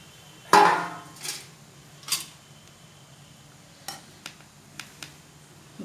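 A sealed dum biryani pot of layered mutton biryani with basmati rice is opened in a village cooking setting: one sharp metallic clank, then lighter scrapes and small taps of metal lid and utensils at intervals over a quiet background.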